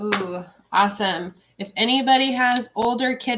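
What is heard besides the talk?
None of the usual background noises is heard.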